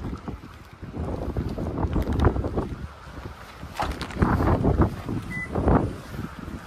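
Gusty wind buffets the microphone in loud, rolling rushes, with a low rumble that swells and fades throughout.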